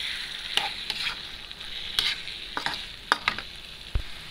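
Martabak filling with spring onions being stirred in a hot pan: steady sizzling under a series of distinct scraping strokes, close and fairly loud, with no voices.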